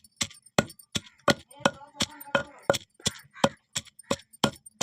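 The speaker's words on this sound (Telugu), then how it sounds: "ఆల్రెడీ మనం వేయించుకున్న పండు మిర్చిని, ధనియాలని, అలానే 2 స్పూన్ల సాల్ట్ని అయితే వేసుకొని బాగా దంచుకోవాలి." Fried red chillies, coriander seeds and salt are pounded by hand, a steady series of about a dozen sharp, close thuds at an even rhythm with slight gritty clinks between them.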